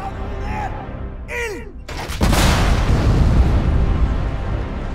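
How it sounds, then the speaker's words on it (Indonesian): Pair of naval cannons on a warship firing two bombs: a sudden heavy blast after a brief stretch of voices, then a loud sustained rumbling roar to the end. "Diluncurkanlah 2 bom itu dari sepasang meriam yang diaktifkan."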